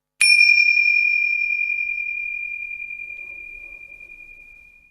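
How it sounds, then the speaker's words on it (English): A single meditation bell struck once to close a mindfulness sitting practice, a clear ringing tone that sustains and slowly fades over several seconds, heard alone in a quiet room. "You may want to use the sound of the bell to mindfully bring your practice to an end"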